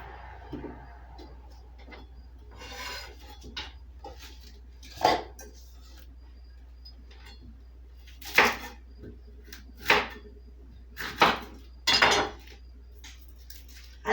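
Knife chopping vegetables on a cutting board while cooking by a wood-fired oven, a series of sharp, irregular clacks and taps spaced a second or two apart over quiet room tone.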